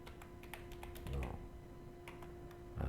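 Typing on a computer keyboard in a word processor: quick, light key taps in a steady run, close and fairly quiet, with one heavier key press partway through and a low background hum.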